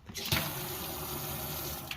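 Hot water runs from the sink tap in an E-350 Econoline camper van, a steady close hiss and splash with a brief louder gush near the start and again at the end.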